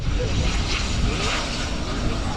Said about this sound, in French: Tous ces gens bloqués pour un avion de 2 mètres de longueur.